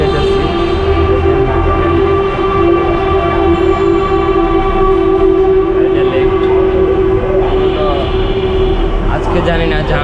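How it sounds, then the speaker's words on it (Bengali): A Dhaka metro rail train at Motijheel station, the line's terminus, gives a loud sustained tonal hum and whine throughout, with a shift in the rumble near the end and people talking faintly beneath it. "মেট্রো রেলে উঠে যেতেছি।"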